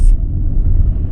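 A car driving, heard from inside the cabin: a steady, close low rumble fills the short stretch, with no other distinct sounds.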